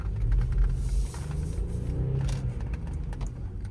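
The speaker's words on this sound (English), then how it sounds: "Clearly the car's misfiring." An Audi with bent valves and low compression misfires while driving at night, a steady low engine rumble with uneven, stumbling pulses running throughout, fairly close and continuous.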